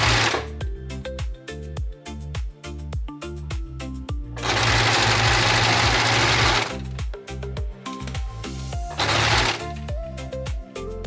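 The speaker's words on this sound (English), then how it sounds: "Fold in half lengthways and then overlock the top seam." An overlocker runs in close, loud bursts while sewing the top seam of a folded tote bag, its rapid mechanical stitching starting and stopping several times, with short pauses between runs and no talk.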